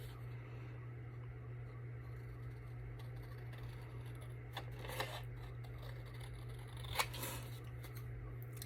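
Scissors cut out paper craft pieces: faint, sparse snips and soft paper rustles over a steady low electrical hum, with two slightly crisper cuts standing out.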